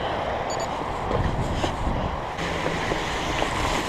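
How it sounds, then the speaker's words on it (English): Rushing river swollen by snowmelt and rain at night, a steady broadband roar of fast water, close and loud, with wind buffeting the microphone throughout. "So with all the snow and rain, it's raging. The river is raging."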